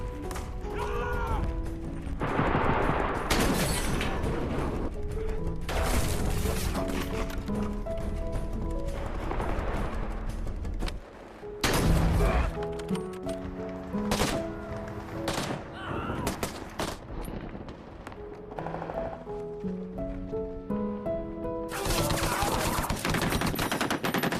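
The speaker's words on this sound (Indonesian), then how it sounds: "Arif menembak pasukan ISIS yang selamat dari ledakan, diikuti sergapan anggota yang lain" Intense battle gunfire from a war film, with rapid bursts and sharp bangs, mixed with dramatic music and loud film sound effects throughout.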